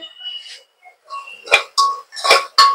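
A spoon scraping and knocking against a cooking pot as turmeric is stirred into home-cooked food, a handful of short clanking strokes close by, with faint clinks between them and no talking.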